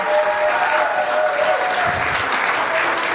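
A church audience applauding their youth and family minister: a dense, steady wash of clapping from many hands filling the room, loud and continuous throughout.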